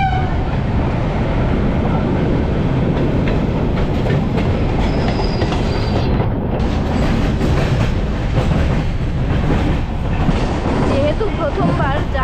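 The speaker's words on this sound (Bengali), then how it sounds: "ট্রেন নাম্বার 13147 উত্তরবঙ্গ এক্সপ্রেস যথাসময়ে শিয়ালদাহ স্টেশন থেকে রওনা" The Uttarbanga Express, train 13147 out of Sealdah station, runs in the evening as heard from inside a sleeper-class coach: a loud, continuous rumble with rhythmic clickety-clack of wheels and brief wheel squeals, and faint voices in the background.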